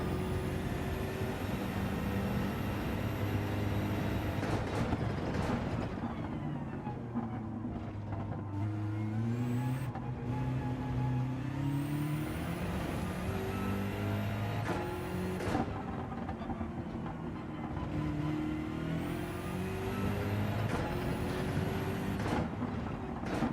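A BMW M6 race car in the video game Gran Turismo 7 roars steadily, its engine pitch climbing and falling repeatedly through gear changes across a long, loud, continuous run.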